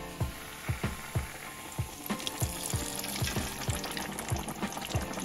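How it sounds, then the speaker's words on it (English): Steady sizzling and crackling of chicken frying in oil at 350 degrees, with a series of soft thumps and clinks from utensils throughout, close by and moderately loud. "my oil is at 350 degrees. And we're gonna get frying now."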